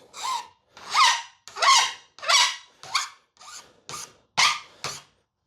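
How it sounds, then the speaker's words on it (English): A metal file deburrs a freshly cut edge on solar panel mounting hardware, giving nine loud, close rasping strokes in a steady back-and-forth rhythm with short pauses between them, and no talk. "I'm gonna deburr it with the file"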